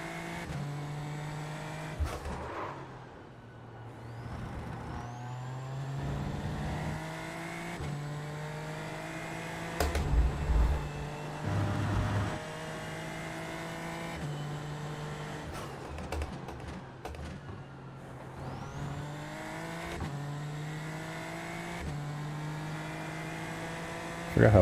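Race car engines from the iRacing simulator drone steadily throughout, with repeated upshifts and downshifts, rising and falling revs, and occasional brief tire squeal, heard at a constant moderate level with no talk.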